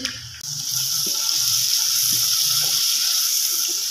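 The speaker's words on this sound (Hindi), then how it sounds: "इसको अच्छी तरह भूनना है, आँच हल्की कर लें" Ginger and green chilies frying with salt in a pan give a loud, steady hiss and sizzle that runs throughout, with a few soft stirring knocks near the start.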